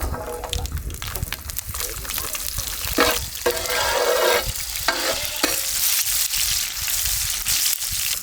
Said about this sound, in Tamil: கொஞ்சம் கடுகு சேர்த்துக்கணுமுக்கா அப்படியே கொஞ்சம் சின்ன வெங்காயம் சேர்த்து விடுவோம்க்கா